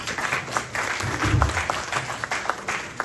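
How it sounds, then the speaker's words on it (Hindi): An audience applauds at an international mushaira, a poetry gathering. The clapping is steady and moderately distant and lasts throughout, with a faint voice underneath. "तालियां।"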